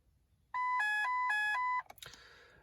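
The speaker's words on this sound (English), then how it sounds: "a test of all the chimes and the warning lights that this car has." A Ford Focus Mk2 facelift's dashboard warning chime sounds three short two-tone electronic dings in a steady rhythm during a test of all its chimes, followed by a brief clatter.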